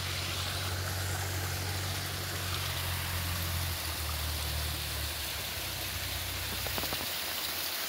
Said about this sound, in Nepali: यतापट्टि चाहिँ खोला छ।